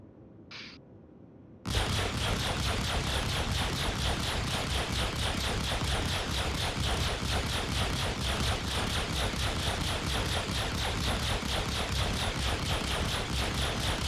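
Distortion guns firing from a Hornet F7C ship in a space combat video game, a loud, sustained, rapid rattling barrage that kicks in abruptly after a brief quiet start and continues unbroken to the end.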